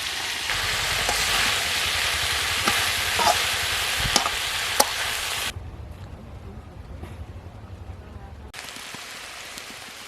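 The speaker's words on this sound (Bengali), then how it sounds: "সবজিটা ভালো করে ভেজে নিয়েছি" Winter vegetables with bottle gourd greens sizzle in a hot pan for vegetable khichuri, a loud, dense crackling hiss that drops to a quieter simmer partway through.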